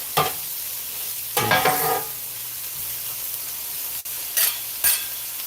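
Cheesesteak ingredients cook in browned butter, a steady low sizzle broken by a few short bursts of louder crackling and spatter as the food is moved around the pan.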